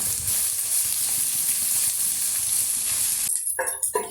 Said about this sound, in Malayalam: ഇനി 2 സവാള ചെറുതായി അരിഞ്ഞത് ചേർക്കുക. എന്നിട്ട് നല്ലപോലെ വഴറ്റുക.